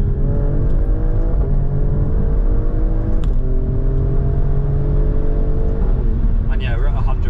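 An Alfa Romeo Stelvio Quadrifoglio engine revs up steadily through the gears to 100 mph with a droning, rising hum and brief dips at each shift, loud and continuous inside the cabin.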